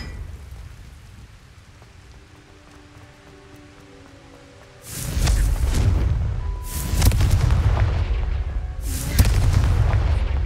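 Confringo fire spells in Hogwarts Legacy erupt in three heavy, booming explosions, each loud and close with a crackling, rumbling tail, following a quieter stretch of ambient game sound.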